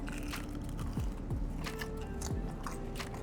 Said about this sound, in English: So crunchy. That's my favorite part about the wings.